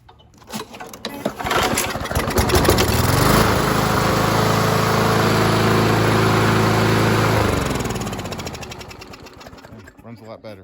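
2011 Craftsman Silver Series lawn mower engine runs after a carburetor cleaning and diaphragm refit, rattling to life, holding a loud steady drone, then winding down and sputtering out at the end, close by.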